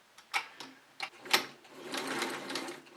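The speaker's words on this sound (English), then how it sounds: "slowly start the machine stitching" A sewing machine starting up slowly for stitching, a few separate mechanical clicks and whirs that then run into a short continuous run of stitching, close and fairly quiet.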